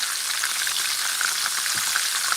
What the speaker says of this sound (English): I want it to fry a little bit slower now